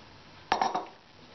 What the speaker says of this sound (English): We then get a spoon and mix those dry ingredients through together.